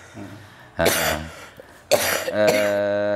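Two or three harsh, loud coughs from a person close by, separated by brief pauses, with a faint murmur of background noise.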